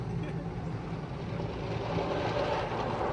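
Water jets of an automatic car wash hammer onto a car roof, heard from inside the car as a dense, steady drumming rush that stays loud and even throughout.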